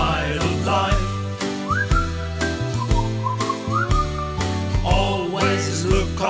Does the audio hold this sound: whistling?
yes